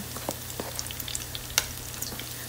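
Garlic sizzles in pork fat rendered in a pan, a soft steady crackle with scattered sharp pops and one louder spatter, close but fairly quiet, with no one talking.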